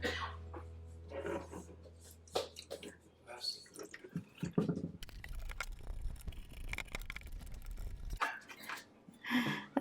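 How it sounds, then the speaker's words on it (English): Vinegar is poured into a humidifier tank, a splashing, gurgling liquid pour for about three seconds in the middle, between quiet handling clicks and bumps of plastic close by. "I'm gonna pour a little bit of vinegar"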